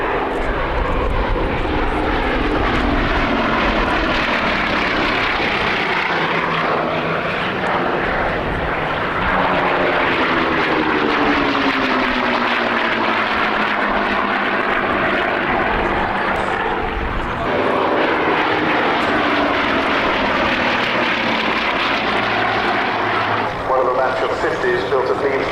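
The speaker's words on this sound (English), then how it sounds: "the radial engines, quite a different sort of beast" A radial-engine propeller aircraft built at Leavesden and delivered in 1945 makes a low pass, its loud rumbling roar swelling and fading steadily, with a voice talking over it.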